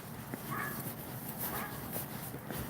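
A dog barks a few times in the distance, short yips and whimpery barks scattered over steady background noise.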